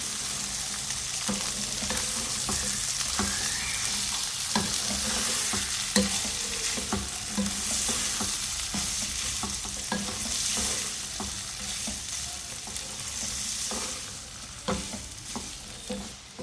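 Boiled black chickpeas stir-fried with masala in a pan, a continuous close sizzle broken by repeated scraping and clacking strokes of a spoon as the mixture is turned.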